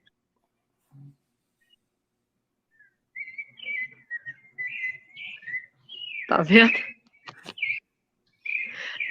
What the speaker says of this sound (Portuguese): eu estou impressionado aqui com os passarinhos cantando aí onde você está